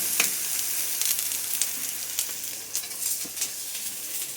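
Steady sizzling and crackling of eggplant frying in hot oil in a pan, with small pops scattered throughout, close and moderately quiet.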